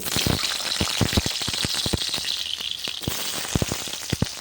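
Potato and cauliflower pieces fry together in oil on a clay stove, with irregular sharp crackles and pops scattered over a soft, continuous hiss, heard up close.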